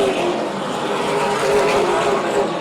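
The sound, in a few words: Super late model race cars racing at Oyster Bed Speedway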